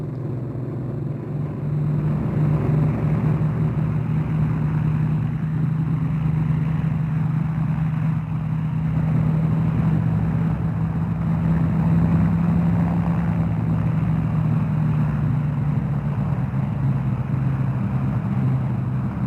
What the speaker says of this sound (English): Trim set, rudder set, throttles forward and into the air.